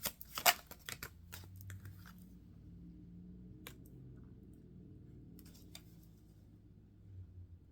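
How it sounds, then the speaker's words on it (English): Tarot cards shuffled by hand in a burst of crisp riffling and flicking near the start, then a few soft scattered card taps over a low quiet background hum. "If you cannot see me shuffle, you hear me shuffle."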